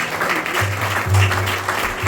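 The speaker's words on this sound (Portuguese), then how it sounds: "dê uma salva de palmas bem linda para a gente." A church congregation claps together in a steady, dense burst of applause, close and fairly loud, with a low voice or music hum beneath.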